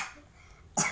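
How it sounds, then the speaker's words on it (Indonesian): A single short, sharp cough bursts out near the end after quiet room tone, close and fairly loud. "Maaf ya, dia lagi batuk."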